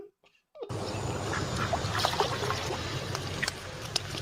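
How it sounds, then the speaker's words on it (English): Ducks being fed at the water's edge give scattered quacks over a steady wash of water and splashing, fairly faint, beginning after a short quiet gap. "I'm feeding the ducks."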